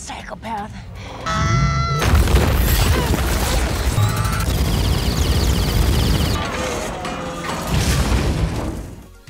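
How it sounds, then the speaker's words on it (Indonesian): A small explosion aboard a spaceship in the Guardians of the Galaxy film bursts loudly into sustained crashing and rumbling debris, with a narrating voice over the film audio. "Terjadi ledakan kecil"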